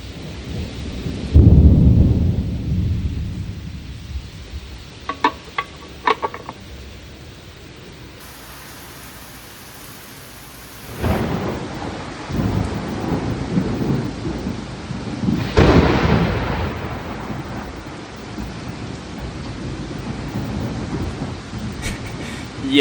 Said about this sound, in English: I got hit by a pretty crazy storm here